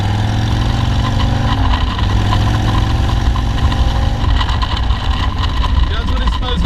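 Harley-Davidson Sportster motorcycle engine running close by, a steady loud mid-pitched rumble that shifts slightly in tone partway through, with someone talking over it.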